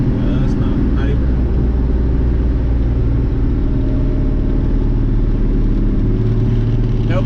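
A car engine rumbles steady and loud through a shift from third to fourth, with the transmission treated with Lucas Stop Slip. The low drone carries on unbroken and a voice talks over it.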